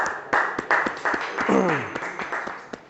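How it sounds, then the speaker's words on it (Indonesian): Students in a classroom give a short burst of hand clapping for classmates after a presentation, a few seconds of dense applause that tapers off. "berikan tepuk tangan dulu atas penambahan dari Andika dan Oka ya"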